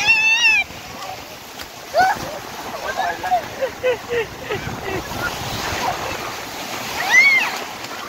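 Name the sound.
sea waves at Bhuigaon beach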